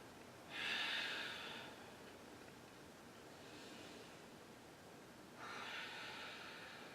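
Deep, airy exhales during a yoga flow in a living room, held in a downward-facing dog: two distinct breaths about five seconds apart with a fainter one between, each lasting around a second, close and unaccompanied by talk.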